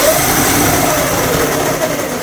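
A Kid Trax ride-on police car's electric motor runs in second gear, a steady close whirring drone that stays even and loud for the whole moment, with no voices.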